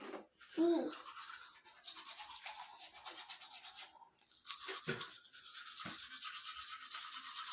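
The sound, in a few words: toothbrush brushing teeth with toothpaste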